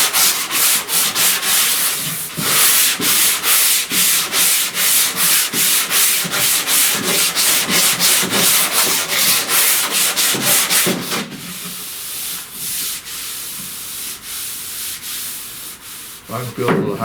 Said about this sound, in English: I'm sanding with this curve every time